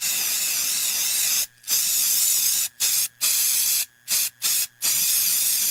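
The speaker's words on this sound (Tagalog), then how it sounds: "Human ako i-spray direkta sa lamok, langaw ug ukok." An aerosol insecticide can hisses loudly in bursts: one long spray, then several shorter squirts separated by brief pauses.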